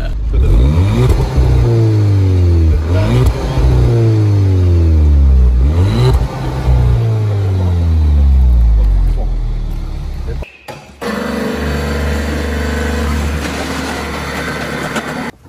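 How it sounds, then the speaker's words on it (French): Volkswagen Golf 6 engine with an aftermarket exhaust line revs loudly in repeated rising sweeps that fall back, then settles into a steady idle drone close to the microphone. "En fait, on entend le moteur, pas les chargements."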